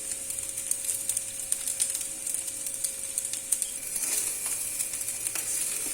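Spices fry in a pan with salt, sugar and turmeric for basanti pulao, producing a soft, steady sizzle with scattered light ticks and stirring sounds, close up and without talk.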